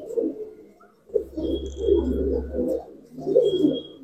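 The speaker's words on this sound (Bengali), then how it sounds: "এই একটা টিপলার পায়রা, মানে অন্ধার পায়রা, দেখো অন্ধার পায়রা" Tippler pigeon, a small bird brought from Andhra, cooing in soft repeated rounded phrases close by, three bursts with short pauses between.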